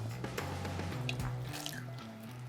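Water is poured into a Norwegian freeze-dried ration pouch holding a tomato-scented powder, giving a close, quiet gurgling stream with soft drips and splashes over a couple of seconds.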